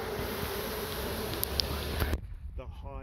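Dense buzzing of many honey bees being pushed out of a hive during relocation fills the air for about two seconds, then drops away abruptly, leaving quieter sounds.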